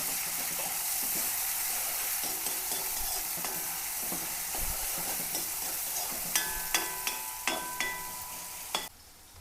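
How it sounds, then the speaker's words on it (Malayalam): Prawns frying in oil with crushed onion, garlic and green chillies in a pan, a steady close sizzle broken by scraping stirs and sharp clinks of the spatula against the pan toward the end. "അപ്പോൾ ഞാൻ ഇത്തിരി ചെമ്മീനിട്ട് ഉലത്താൻ പോവാണ്. അപ്പോൾ ചട്ടി വെച്ചിട്ടുണ്ട്, എണ്ണ ഒഴിച്ചിട്ടുണ്ട്."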